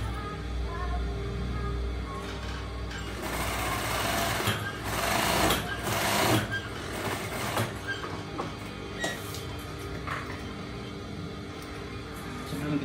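Sewing machine stitching bias-cut fabric binding along the edge of a transparent face mask, a steady close whirring run that swells louder mid-way, then settles into a continuous hum.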